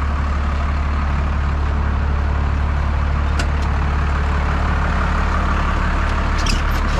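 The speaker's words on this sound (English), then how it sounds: "So what I'm gonna go do is turn on our PTO and we'll get this bed moving." A rollback tow truck runs with its PTO engaged to drive the hydraulic system that moves the bed. A loud, steady engine drone fills the whole stretch up close, with a few faint clicks near the end.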